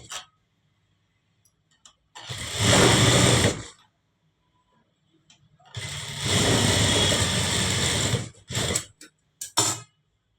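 Sewing machine stitching a folded hem on a cotton blouse, running in two loud bursts of about a second and a half and two and a half seconds, then a few short stitch jabs, with near silence between.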